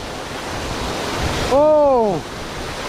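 A powerful waterfall in a Kanchanaburi national park gives a steady, loud broadband rush, with a person's voice rising briefly over it midway.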